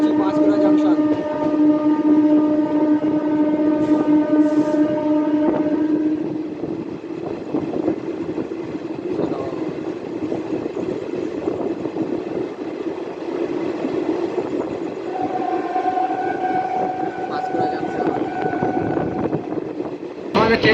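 The Howrah–Chakradharpur express runs through Panskura Junction at night, a loud continuous rumble of wheels and carriages, with a long sustained horn at the start and another horn near the end.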